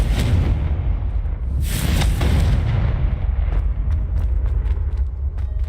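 The Confringo spell blast in Hogwarts Legacy erupts as a loud, booming explosion with a rumbling tail, followed by a second burst and then scattered crackling debris as it fades.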